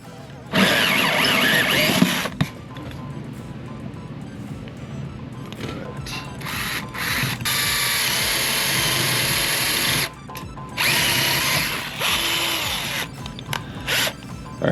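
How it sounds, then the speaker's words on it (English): A power drill whines in long bursts, stopping and starting several times as it bores a hole through a wall, close and loud. "my plan is to drill a hole through the walls"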